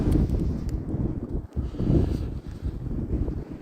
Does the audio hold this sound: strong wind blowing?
yes